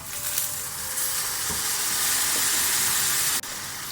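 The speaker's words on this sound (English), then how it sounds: "I'm adding just a tiny drop of water to this." A small splash of water hits a pan of hot onions and chopped courgette, a loud hissing sizzle swelling and holding steady close by, broken by a brief knock near the end.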